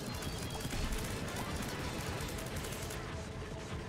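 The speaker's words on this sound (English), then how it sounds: "I'm getting, like, bullied and pushed around by all the explosions so much." Bombs explode in rapid succession in The Binding of Isaac, a dense, continuous barrage of blasts and crackling bursts with no pauses, moderately loud.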